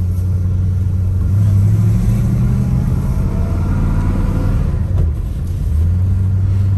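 An RT75 car's engine rumbles low and steady while driving, a loud close drone that swells and eases slightly with the throttle, with no voices.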